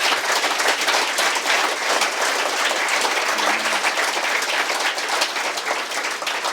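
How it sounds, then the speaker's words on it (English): Audience gives lecturers at a harbour cleanup project event a final round of applause, loud and sustained clapping from many hands filling the room evenly, with a brief low voice murmuring partway through. "I want you to give one final round of applause to our lecturers."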